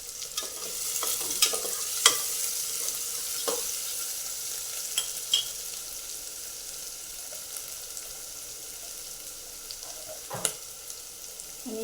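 Masala rice base sautés in hot oil while a spoon stirs it, a continuous soft sizzle punctuated by scattered scraping clicks against the pan, close and steady with no voices.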